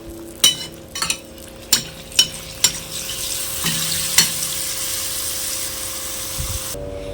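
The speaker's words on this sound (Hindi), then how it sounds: "चारपलटी से हल्का हल्का तेल इसको उछलते रहेंगे इस तरह से, ताकि अच्छे तरह से ये भी फूल के रेडी हो जाए" Mango malpua fry in hot oil, giving a steady close sizzle punctuated by several sharp metal clinks of a spatula tapping the pan.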